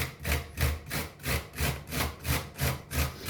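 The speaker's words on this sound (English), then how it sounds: "you could have probably grated the onion in one whole piece" An onion rubbed against a grater in even back-and-forth strokes, about eight rhythmic rasps, close and clear with nothing else heard.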